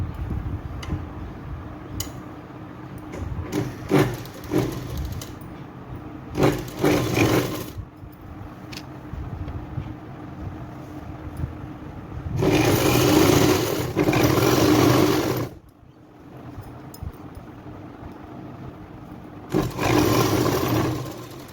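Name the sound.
sewing machine stitching a petticoat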